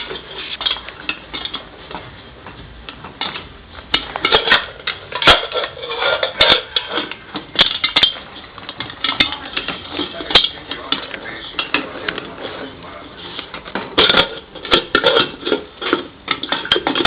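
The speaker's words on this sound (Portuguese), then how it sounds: "Daí mexe." Sweet colored popcorn is stirred in a pot, a utensil scraping and clattering against metal in irregular bursts of rattling and clinks, close and fairly loud, with quieter gaps between strokes.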